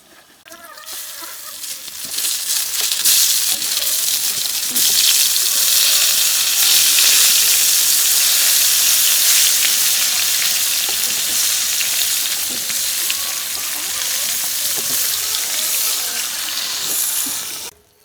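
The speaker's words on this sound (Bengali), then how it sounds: "মাছ ভাজার তেলটাই বেগুনগুলোকে এখন ভেজে নেব" Eggplant pieces frying in hot oil already used for frying fish, a loud, steady sizzle that builds within the first couple of seconds, holds for a long stretch and cuts off at the end, with faint stirring scrapes.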